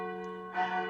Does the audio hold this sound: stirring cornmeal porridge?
no